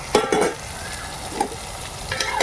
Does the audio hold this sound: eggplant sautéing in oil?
yes